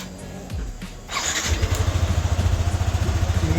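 A Yamaha NMAX scooter engine, just repaired of a marble-like rattle, cranks briefly, catches, and settles into a steady, close putter of rapid pulses.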